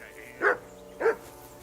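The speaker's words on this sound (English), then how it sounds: "Jesus, Henry, that barking's driving me nuts." Two sharp barks from a dog in the Kingdom Come: Deliverance 2 video game, evenly spaced about half a second apart over a quiet ambient background.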